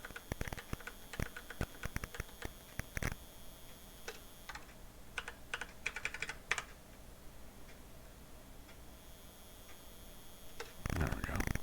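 A Geiger counter clicks in the Commodore 64 game Wasteland. Quick, irregular clicks and ticks come in clusters, fairly faint, with short quieter gaps between bursts.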